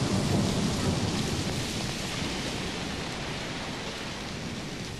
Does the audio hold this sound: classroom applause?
no